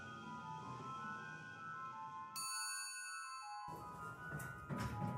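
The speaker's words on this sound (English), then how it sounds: "Ding dong." A door chime rings out in the video game Urban Myth Dissolution Center: a bright, clear ding with a sustained ringing tone that cuts through quiet background music before fading.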